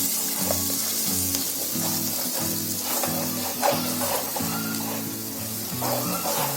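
Dal poured into hot, oil-separated masala gravy for kofta curry, giving a steady loud sizzle and bubbling that runs the whole time, with a few clattering stirs and spoon knocks close by and no talking.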